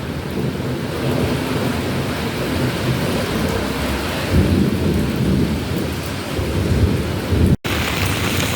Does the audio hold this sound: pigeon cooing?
no